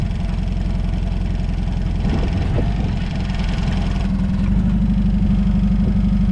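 A forklift engine runs steadily at close range while lifting a Toyota Tacoma pickup, a continuous low idling drone with a slight rise in pitch near the end and no talk over it.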